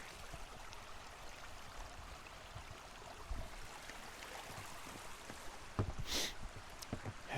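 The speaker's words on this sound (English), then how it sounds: "the creek is usually always flowing here" A creek flowing through the Erie County Forestry woods gives a faint, continuous rushing trickle. A brief louder rustle breaks in near the end.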